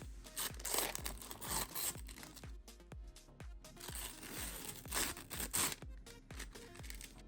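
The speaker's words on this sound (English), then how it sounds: "Wrapped in wax parchment paper. It is nicer than plastic because we get that nice crunchy unwrapping sound" Wax parchment paper is unwrapped from a card deck, a close, quiet run of crinkling and crunchy tearing sounds with soft rhythmic taps beneath.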